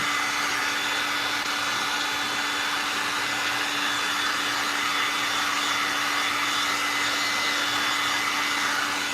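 A heat gun blows hot air to soften material so it lies against a thrifted Goodwill cross, producing a steady, loud, unbroken whooshing whine that holds constant throughout.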